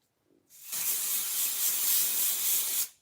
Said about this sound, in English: All right, so we're gonna spray it.